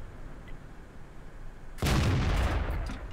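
A tank cannon fires in World of Tanks from the ARL V39, one sudden heavy booming blast cutting in over a low rumbling engine background and leaving a sustained roar after it.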